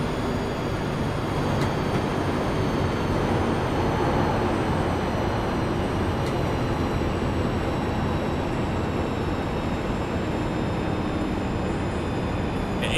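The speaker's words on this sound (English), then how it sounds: "It sounds like a plane landing." A plane landing in a flight simulator game gives off a continuous, steady rumbling roar with a faint high whine layered on top, holding an even loudness throughout with no voices.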